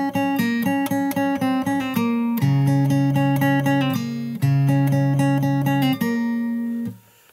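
Solo fingerstyle acoustic guitar plays the first bar of the second verse of a song: quick repeated plucked notes over low bass notes, bright and close, ending on a ringing chord that fades out.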